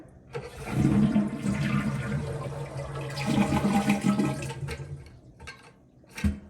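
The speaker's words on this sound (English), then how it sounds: "Next, we want to flush the toilet to completely drain the tank." A toilet flushes up close with its water supply shut off, a loud rushing swirl of water as the tank empties and drains away, then gurgles as it quiets without refilling.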